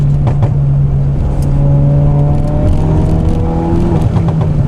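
A tuned 450bhp Ford Focus RS accelerates hard through a sweeping left turn, its engine droning loudly and steadily from inside the car with rising tones and no talk over it.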